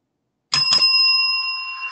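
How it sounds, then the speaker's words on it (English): A bell struck twice in quick succession at a game fair, two sharp strikes followed by a clear ringing tone that slowly fades, close and alone. "Well, that was the double bell."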